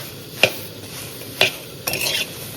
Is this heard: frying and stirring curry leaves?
yes